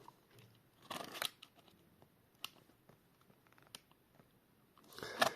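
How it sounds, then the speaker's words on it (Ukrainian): A few sharp bursts of a knife cutting packing tape on a cardboard box, close and fairly loud, with quieter rustles and handling noises between them. "проклеєна скотчем, який ми відрізаємо."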